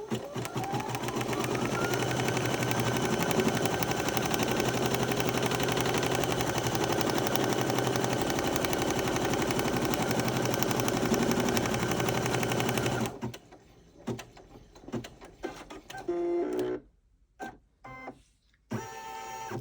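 A Brother embroidery machine stitching a design runs loud and continuous with a rapid mechanical needle rhythm, then stops and gives way to sparse clicks and quieter handling sounds.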